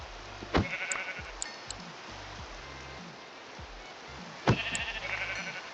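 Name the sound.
sheep bleating in a video game modpack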